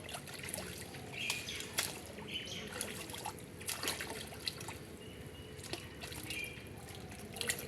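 Tap water running and dribbling as ripe local guavas are washed, a soft, steady trickle with faint drips close by and no voices.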